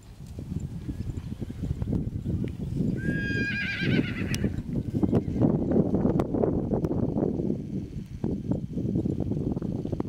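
A three-year-old mare gives a bright whinny in the middle, set against a steady bed of hoof clip-clop and movement on the ground, fairly close and with no speech.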